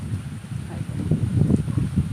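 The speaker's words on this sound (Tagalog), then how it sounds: "Mahangin dito guys." Wind blows across an open coconut farm, buffeting in low, gusty surges that rise and fall, close to the microphone and without talk.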